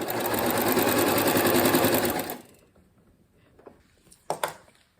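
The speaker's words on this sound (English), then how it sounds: "Fold it over and stitch right on the edge." Sewing machine stitching binding onto a fabric edge, a fast steady mechanical whir for about two seconds that stops abruptly, followed by quiet handling knocks and fabric shuffles.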